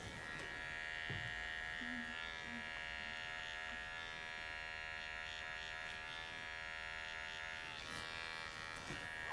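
Electric hair clipper buzzing steadily at a barber class while cleaning up the bottom of a hairline, a constant fairly faint hum with small clicks near the start.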